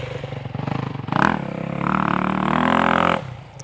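A beginner's dirt bike roars and revs as it rides through a rut during a private riding lesson, the engine surging loudly mid-clip and holding a strained drone before dropping off near the end.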